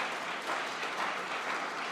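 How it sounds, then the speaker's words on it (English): Audience at a Principles First event in Salt Lake City claps for a panel, a moderate, even stretch of crowd applause heard from some distance with no talking. "can we get another round of applause for our first panel?"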